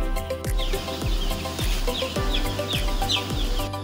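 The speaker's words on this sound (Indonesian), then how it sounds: "Kebetulan di sini ada kandang ayam broiler yang sedang brooding." Broiler chickens in a brooding coop cluck steadily, many birds close together making repeated short calls over a constant low hum of the shed.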